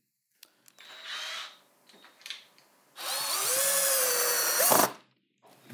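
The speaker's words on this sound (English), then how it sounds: "Now I'm gonna take my screws, I got my 4x75s." Cordless power drill driving 4x75 screws into a wooden A-frame shelf: a short whirring burst, then a longer, louder sustained drive that rises in pitch and stops abruptly, with quiet handling clicks between.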